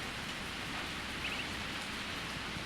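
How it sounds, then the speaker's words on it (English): Steady rain falling in the farming game Harvest Moon: A Wonderful Life, a soft, even hiss of drops that continues without pause and plays alone, with no voices. "Cause now I can just hear the rain sound."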